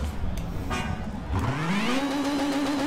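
A Lotus Exige engine revs in the racing game NFS Shift, a car engine note rising steadily in pitch as it accelerates, loud and close with no talking.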